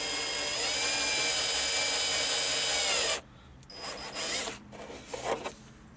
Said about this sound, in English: I'm just doing it to locate my holes at the moment.